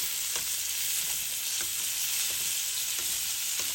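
Butter sizzles steadily and close in a hot pan while salmon is basted, with a constant bright crackle and a few soft intermittent clicks of the basting spoon, no voices.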